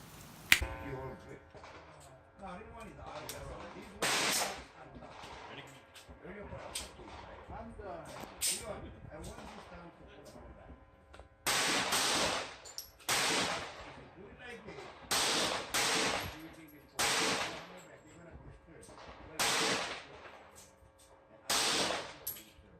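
A Glock 17 Gen3 RTF2 pistol fires at a shooting range in sharp, loud single shots, some spaced apart and some in quick clusters, with quieter talk between them.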